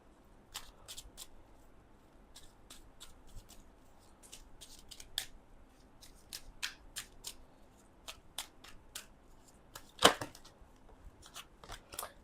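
Tarot cards being shuffled and handled, giving a sparse series of soft, crisp flicks and snaps at irregular intervals, faint and close, with one sharper slap near the end and no talking.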